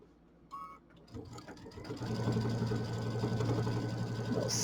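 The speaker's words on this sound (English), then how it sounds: "We'll speed up the sewing machine a little bit here" A sewing machine stitching a mini quilt seam starts up after a few clicks and settles into a fast, steady mechanical stitching whir, close and continuous.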